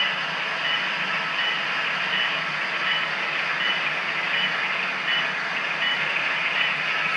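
An HO scale model train locomotive backs up slowly on a layout, giving a steady, even mechanical whir and rolling hum that holds constant for several seconds with no voices.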